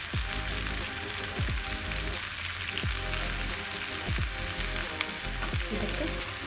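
Grated potatoes fry for aloo palya in a pan with a loud, steady sizzle, broken by a few scraping stirs and soft clunks of a spoon.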